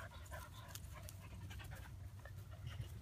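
A dog pants rapidly and continuously up close, quick breathy huffs over a low background rumble.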